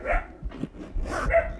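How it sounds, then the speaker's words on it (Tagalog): Several dogs bark and yip in quick, irregular bursts, fairly close but not loud, with short gaps between the sharp calls over a brief moment. "Ang ingay ng aso."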